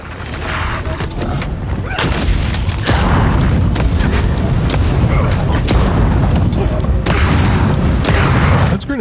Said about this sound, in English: Those grenades really don't do that much.